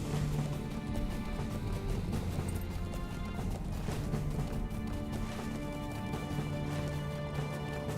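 A horse gallops in the online game Lord of the Rings Online (LOTRO) across the Lone-lands, with a steady run of clip-clopping hoofbeats and a brief whinny over a continuous bed of game music.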